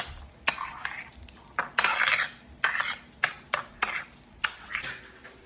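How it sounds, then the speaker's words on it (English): Ricotta cheese and egg being mixed in a bowl with a utensil, a close series of sharp clinks and scraping swishes in an uneven rhythm, with no talk. "take 1 cup of ricotta cheese and mix it with egg"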